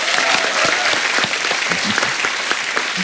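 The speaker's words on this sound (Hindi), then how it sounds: "इस बात पे भी तालियां बनती हैं" A studio audience at a comedy talk show applauds steadily and loudly throughout, a dense wash of clapping with no pauses.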